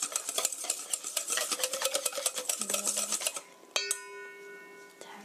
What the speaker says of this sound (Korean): 계란과 밀가루가 잘 섞이도록 저어주세요